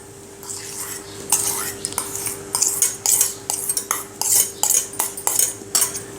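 Metal spoon scraping and clinking in a pan while grated jaggery is mixed with soaked garden cress seeds for laddu, a steady run of repeated stirring scrapes, close and fairly loud, with a faint constant hum underneath.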